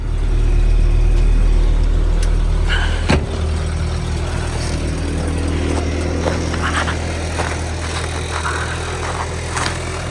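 A 1990s Toyota Hilux engine that sat for months runs in freezing cold around five degrees, a loud, close, steady idle rumble with a sharp knock early on, settling into an even hum.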